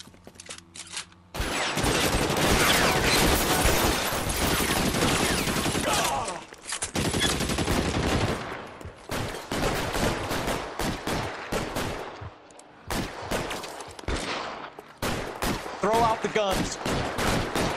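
A chaotic shootout in the L.A. Noire video game, dense rapid gunfire and bursts from several weapons crackling loudly for most of the span, easing into scattered single shots, with a brief voice near the end.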